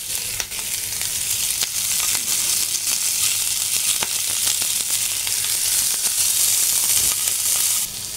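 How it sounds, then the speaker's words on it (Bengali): Capsicum and onion sizzle steadily in a hot pan with salt, a continuous close, loud frying hiss with small crackles and pops throughout. "এইবার ক্যাপসিকাম আর পেঁয়াজটা হালকা করে ফ্রাই করব।"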